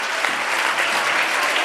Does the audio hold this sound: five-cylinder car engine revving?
no